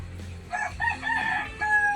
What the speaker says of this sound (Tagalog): Ayun, may manok pa.